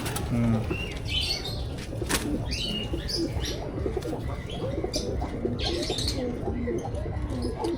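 Racing pigeons, a breeding pair among many birds, coo steadily while wings flap and flutter in bursts, with chirps from other birds mixed in, all fairly close and continuous throughout.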